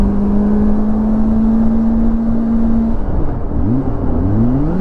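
Kawasaki Ninja ZX-25R motorcycle fitted with a Japanese-made WRS racing exhaust, riding on a road in Japan, its engine note droning steadily close-up and then rising and falling as the rider shifts and revs under wind noise.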